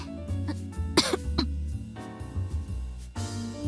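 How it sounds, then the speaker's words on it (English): A girl coughs several times in quick bursts with some throat clearing, close and fairly soft over a quiet background. "Sayo coughs again."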